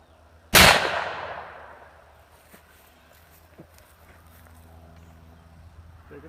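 A single loud, close gunshot from a .32 Winchester Special lever-action rifle cracks out and rings off into a long fading tail, followed by quiet shuffling.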